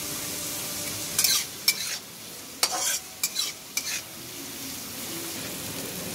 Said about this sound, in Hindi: हम इसमें थोड़ा सा नमक डाल देंगे ताकि हमारा प्याज जो है जल्दी से फटाफट से भून जाए।